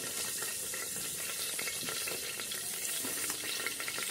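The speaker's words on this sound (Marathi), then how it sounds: "आता हे फोडणीला आपण कढीपत्ता टाकलेला आहे" Curry leaves sizzle in hot tempering oil inside a pressure cooker, giving a steady, close crackling fry with no talk over it.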